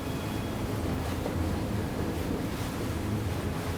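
A Ranieri International Cayman 33.0 Executive powerboat running upwind against the waves, heard as a steady rush of wind and churning water over a low engine drone, continuous and fairly close, with no voices.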